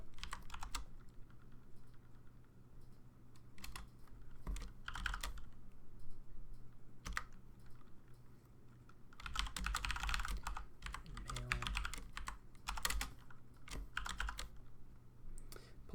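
Steady typing on a computer keyboard, bursts of close clicking keystrokes with short pauses and a denser flurry near the middle, over a low constant hum.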